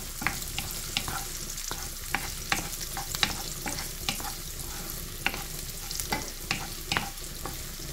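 Garlic sizzles steadily in a pan for a spinach and mushroom dish, with irregular clicks and scrapes from stirring scattered over a continuous hiss.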